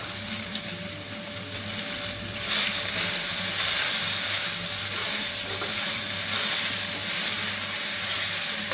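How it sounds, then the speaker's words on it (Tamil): Onions, green chillies and coriander leaves sautéing in a pan for coriander chutney, a steady close sizzle with stirring scrapes and a faint hum throughout, no voices. "பச்சை மிளகாய் இது எல்லாத்தையும் போட்டு வதக்கிறோம்"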